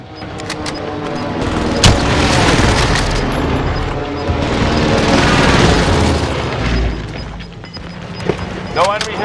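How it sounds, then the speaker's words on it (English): Airstrike explosions in Call of Duty Warzone roll out as a long, heavy rumbling barrage of booms that swells and fades over several seconds. Game voices are heard over the blasts. "Get fire on my target. This is Phoenix 3. Strike inbound."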